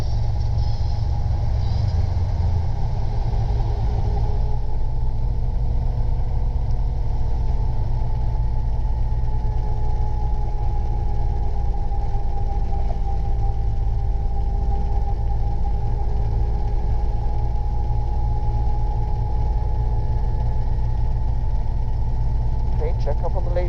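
Robinson R22 helicopter during a practice autorotation, with a steady, loud engine and rotor drone that holds a constant tone inside the cabin, with a slight shift in pitch early on.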